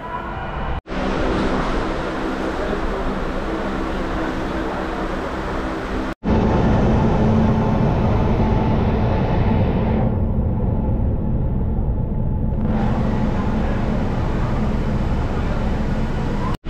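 Trichy to Tambaram MEMU express train (06166) running, a steady loud rumble of wheels and motors heard from onboard, continuing without a break and growing heavier partway through.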